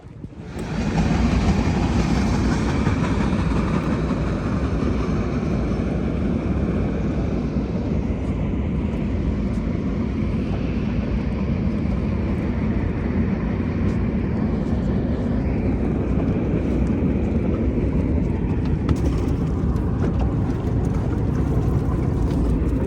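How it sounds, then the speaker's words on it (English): A big freight train passes near a waterside dock, a loud, continuous low rumble and rattle of wagons rolling by for the whole stretch without letting up. "Had a big old freight train pass by"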